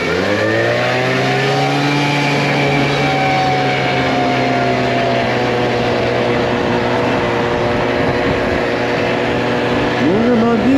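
A Gilera Runner scooter engine, said to have a bearing fault, idles steadily while warming up and then climbs in revs near the end, its loud harmonic drone holding close throughout.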